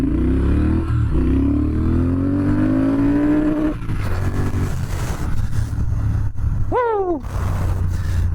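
A Triumph Speed Twin motorcycle accelerates hard from a standstill toward 60 mph in sport mode, engine pitch climbing steadily through a long first gear, a brief dip at the shift, then rising again before a quick second shift, loud and close.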